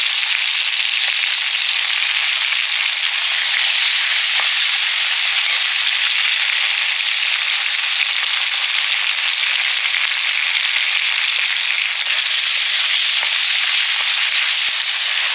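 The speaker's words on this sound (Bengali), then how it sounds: "আর কাঁচা লঙ্কাটা আজকে একটু তেলে দিলাম, একটু অন্যরকম ফ্লেভার হয় তেলে দিলে" Green chillies frying in hot oil for a vegetarian Bengali ghugni, giving a steady, loud, close sizzle and crackle with scattered pops that runs unbroken throughout, without any talk.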